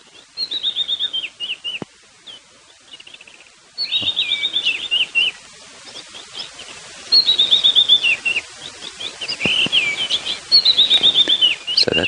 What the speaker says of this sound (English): is the white-browed scrub robin